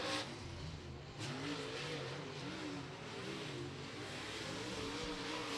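A stock race car at Beckley Motor Speedway qualifying for the Mountaineer 50 works down through turns one and two, its engine roaring loud and steady with shifting revs and broadband track noise, and no voices.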